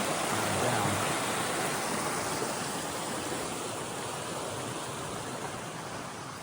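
Young Women's Creek rushes down near Baldwin Run in the Pennsylvania Wilds on a rainy weekend, a steady broadband wash of flowing water, close and unbroken, with no voices over it.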